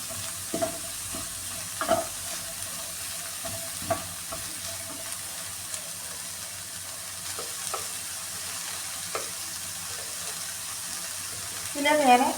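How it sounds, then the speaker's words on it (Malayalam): Vegetables for restaurant-style noodles stir-fried nonstop over a high flame, with a steady sizzle under repeated scraping and clanking of a spatula against the pan, close and continuous, building louder at the end. "ഇത് ഹൈ ഫ്ലെയിമിലിട്ട് നിർത്താതെ ഇങ്ങനെ മിക്സ് ചെയ്ത് കൊടുത്തുകൊണ്ടിരിക്കുക"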